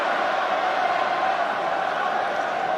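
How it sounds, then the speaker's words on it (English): Rugby crowd at a Dublin stadium, a dense, steady roar of many voices swelling continuously and loud throughout, with no distinct individual sounds standing out. "the crowd beginning to rise here in Dublin"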